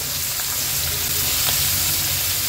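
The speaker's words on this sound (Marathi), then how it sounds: "नॉर्मली आम्ही आगरी कोळी लोक विदाउट कोटिंगच मच्छी फ्राय करतो।" Uncoated sardines frying in a pan over a medium flame, giving a loud, dense, continuous sizzle that stays even throughout with no break and no voices.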